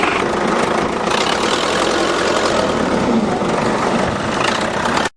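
A tractor engine runs steadily while being readied to pull a seized van out of its spot on a farm, a loud, even low rumble that holds constant and then cuts off abruptly at the end.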